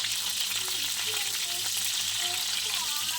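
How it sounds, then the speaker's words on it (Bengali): Cauliflower frying in a pan of hot oil for a fish curry, a steady, loud, close sizzle with soft spatters and faint stirring throughout. "তাহলে ফুলকপিটা প্রায় ভাজা হয়ে এসছে"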